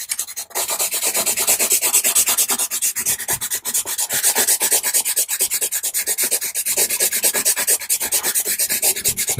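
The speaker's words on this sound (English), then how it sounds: "I'm just going to rub that in, blend it" Faber 230 blue-grey pastel being rubbed and blended into paper for a sky tone: a continuous rapid back-and-forth scratchy rasping, close and steady for the whole stretch, with no talk.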